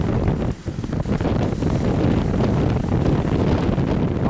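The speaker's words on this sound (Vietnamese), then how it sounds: "Trời ơi quá gió rồi." Strong wind roars continuously across the microphone on an overloaded barge at sea in rough waves, a loud, dense rush with slight gusting and no talk.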